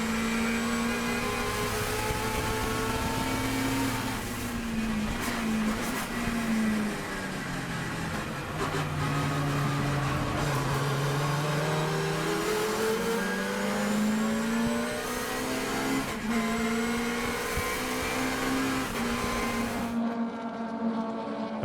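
Race cars, including a yellow Datsun, lap Sonoma in a Toyo Tires 2.5 Challenge race. Engines drone and rev continuously, rising and falling as cars accelerate and brake through corners, while the tires fight for grip.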